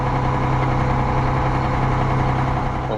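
A big Ford tractor engine idles steadily on a farm before bale work, a loud, close, continuous low rumble with a constant hum and no talk.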